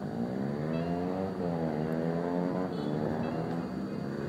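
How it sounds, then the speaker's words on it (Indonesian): Motorcycles revving hard at a road race practice track, engine pitch climbing and falling in repeated sweeps, loud and continuous with no talking. "Orang latihan balapan nih, teman-teman bisa dengar suara motor kan?"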